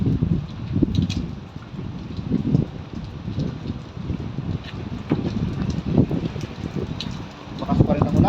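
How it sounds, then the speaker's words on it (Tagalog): Heavy rain pours with gusting wind in a storm in the UAE, a dense, rumbling wash of noise close to the microphone, with a voice talking over it. "Lakas pa rin ang ulan. Malakas."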